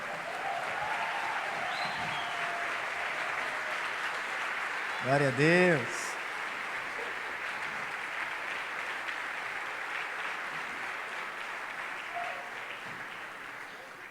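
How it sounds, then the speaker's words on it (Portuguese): Standing church congregation applauding actors after a performance, a steady, moderately loud wash of clapping, interrupted midway by a short burst of speech or singing, then continuing to the end. "Vamos ficar de pé para aplaudir os nossos atores"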